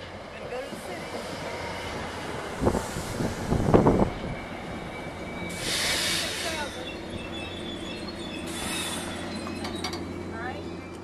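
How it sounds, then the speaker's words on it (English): A train to New York pulls into a station, a low steady rumble with hissing bursts and rattling, moderately distant, while people talk nearby. "Here come the train to New York."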